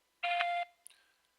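A single electronic telephone voicemail recording beep, a bright steady tone lasting under half a second, followed by faint background hiss.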